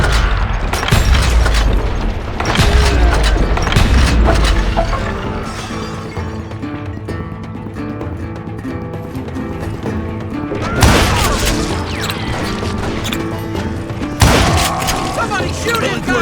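Gunfire and explosive booms in a shootout against dozens of deputized shooters in the video game Call of Juarez Gunslinger, loud dense bursts with sharp crashing peaks, mixed with game voices.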